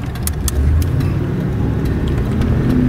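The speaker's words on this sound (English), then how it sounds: "Nice torque from that V8." A 1985 Oldsmobile Delta 88 Royale Brougham with a V8 accelerates, giving a steady, loud low engine drone with road noise that holds for the full stretch, with no talk over it.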